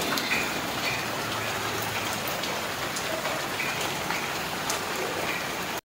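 Heavy rain pours continuously in a dense, steady hiss close by, with scattered drops spattering on surfaces and nothing else heard until it cuts off abruptly.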